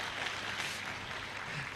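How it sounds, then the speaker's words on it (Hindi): An audience claps at a motivational talk event in Korba, a steady, dense wash of many hands applauding without pause, moderately loud and even from start to finish. "आप लोग तालियां क्यों बजा रहे हैं?"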